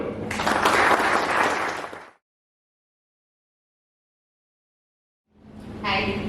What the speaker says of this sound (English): give her a round of applause and welcome her